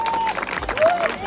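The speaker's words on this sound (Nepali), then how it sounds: "फर द्याट अध्यक्षको लागि ताली पठाइदिनुहुन्छ।" Short burst of audience applause at the Tarahara festival, clapping from a crowd with a tonal background sound running through it.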